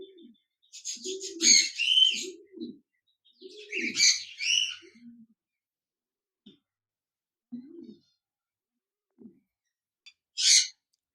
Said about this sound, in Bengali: লুটিনো রেড আই কোকাটেল পাখি রয়েছে। বিগ সাইজের রানিং পেয়ার।